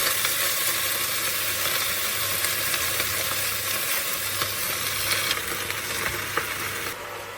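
Chopped, washed chayote frying in a pot, a steady loud sizzle with occasional scraping stirs and no voices, the hiss continuing evenly and thinning slightly near the end.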